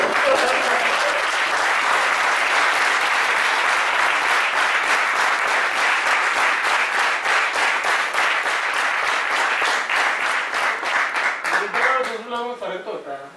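Training-session audience breaking into loud, sustained applause, a dense roar of clapping that turns into more rhythmic, separated claps before fading as a voice begins speaking at the end.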